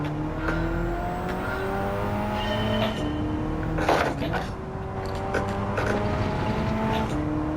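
A race car from Gran Turismo 7 on soft compound tires drives continuously, its engine climbing through the gears with rising revs and shifts, a brief tire scrub midway, steady and close throughout.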